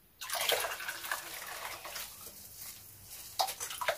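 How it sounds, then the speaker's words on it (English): Oil phase poured into a water phase while mixing a homemade base cream, a steady close liquid splashing and trickling for about four seconds with a few louder spurts. "So I'm going to pour the oil phase inside the water phase."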